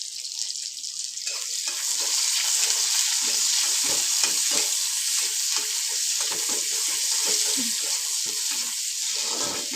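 Onion drops into hot oil and fries with a loud, steady hissing sizzle that swells within the first seconds and stays dense and close, with scattered crackles.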